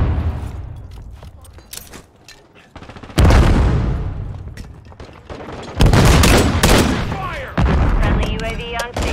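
Call of Duty MW3 gunfire on the Skidrow map, followed by a stun grenade burst: loud, sharp blasts and rattling shots in bursts, with several heavy booms cutting in near the end among in-game voice callouts.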